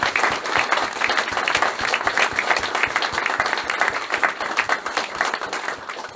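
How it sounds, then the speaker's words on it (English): Lively applause from an audience at a bookshop book presentation, with distinct individual claps in a dense, steady patter over several seconds, fading slightly toward the end. "I just think that deserves a large round of applause"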